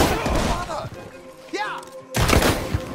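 Gunfire in a video game, with dense, loud, rapid shots near the start and again after a brief lull, mixed with game noise and voices talking over it.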